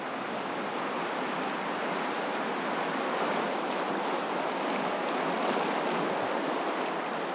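River water rushes through the Ammer Gorge in a steady, even wash of noise, moderately distant and unbroken, with no voices or other sounds.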